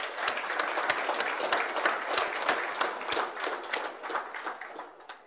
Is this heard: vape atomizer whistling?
no